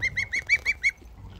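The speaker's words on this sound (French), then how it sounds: "J'ai une oie de compagnie." A pet goose in a garden honks six times in quick, evenly spaced nasal calls, close and clear against quiet surroundings.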